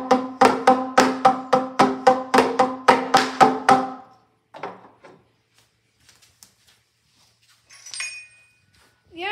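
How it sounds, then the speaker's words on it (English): The iPhone ringtone melody struck on a pitched percussion instrument with two mallets, a rapid, evenly spaced run of about sixteen bright notes for four seconds, then a few scattered quieter taps and clinks. "The iPhone ringtone with two mallets."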